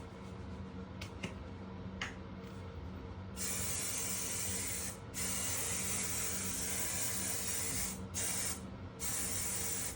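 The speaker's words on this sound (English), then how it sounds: "And then grab your hairspray." Hairspray misted in a light coat over a man's styled hair, a near, steady aerosol hiss that starts partway in and runs on in long bursts with brief breaks.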